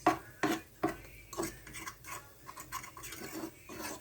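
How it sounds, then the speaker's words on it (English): A spoon scrapes and stirs a butter and flour mix in a pot for a white sauce, with irregular clinks and soft rubbing scrapes repeating close by at low volume. "I'm gonna stir it well through the butter and the flour mix."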